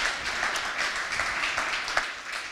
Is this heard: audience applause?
yes